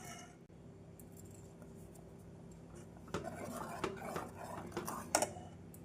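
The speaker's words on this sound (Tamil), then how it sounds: "இப்படி நன்றாக கெட்டியாக வரும் வரை நாம் கிளறிக்கொண்டே இருக்க வேண்டும்" A pot of thick kambu (pearl millet) porridge being stirred, giving soft scraping and a few sharper clinks of the spoon against the pot that grow busier in the second half, with no talking.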